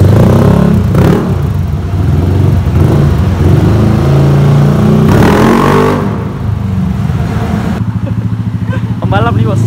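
Yamaha Aerox scooter with an open Looper exhaust and rich fuel setting revving on a test ride, loud close engine roar swelling and easing, with crackling burble near the end.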